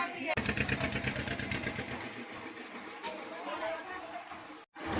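A river launch's engine on a Sundarbans boat trip starts up with a steady, rapid mechanical chugging, loud and close, continuing throughout with a brief drop near the end.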